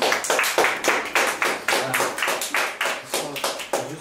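Rhythmic clapping at the end of a film shoot, loud and close, with steady repeated claps for about four seconds and some room noise between them.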